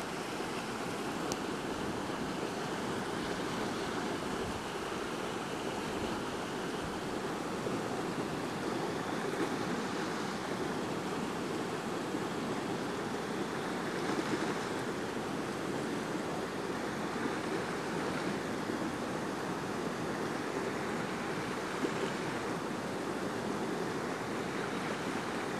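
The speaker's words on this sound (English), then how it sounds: "I guess it must be Galatea Creek." Creek water from Galatea Creek flowing beneath the Basque Bridge, a steady, broad rushing wash heard close and continuous with no break, faint wind buffeting the microphone now and then.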